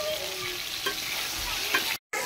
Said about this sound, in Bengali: এই নুন আর হলুদ দিয়ে আমি পটলটাকে ভেজে নেব লাল লাল করে।